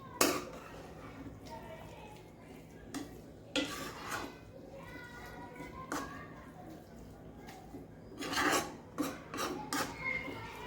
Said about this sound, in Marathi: तर आपण चांगला हलवून घेऊयात.